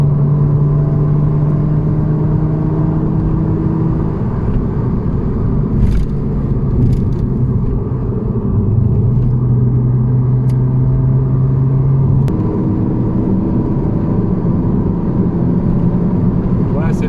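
A 1992 Audi Coupé Quattro V6 engine pulls steadily from inside the cabin, a loud continuous drone that rises in pitch with a gear change partway, while people talk over it.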